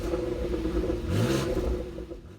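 A 2020 BMW X3 M's 473-horsepower turbo inline six-cylinder engine idles with a steady hum, then revs sharply in one short burst and settles back down.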